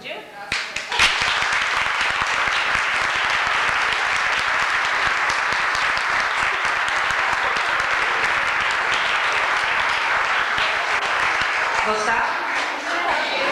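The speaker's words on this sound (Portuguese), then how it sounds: "Aplaudiu?" A church congregation at a country-themed evening service gives sustained, full applause that starts abruptly and continues evenly for several seconds before tapering at the end.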